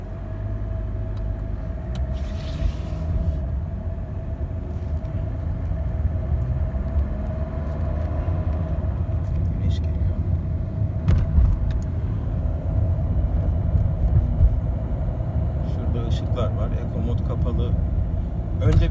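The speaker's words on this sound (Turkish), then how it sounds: "Şimdi mesela dönerken eko modunu kapatarak şöyle bir sürüş yapayım." A Fiat Linea with a Dualogic automated gearbox drives through a turn with eco mode switched off, its engine and road rumble holding steady and close throughout, with a few brief sharper knocks over the constant drone.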